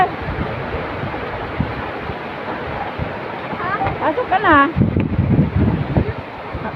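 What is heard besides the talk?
strong wind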